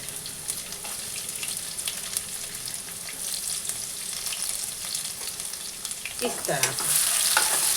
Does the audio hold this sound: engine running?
no